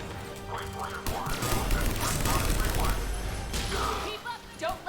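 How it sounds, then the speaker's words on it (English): Grenade pistol firing amid Mass Effect 3 combat, with crashing impacts and bursts of gunfire under voices talking. "That's one of those grenade pistols."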